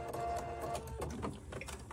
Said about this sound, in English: I'm going to stitch across the short end with a 1/2 inch seam allowance.